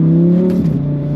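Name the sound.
Lamborghini Huracan EVO rear-wheel drive V10 engine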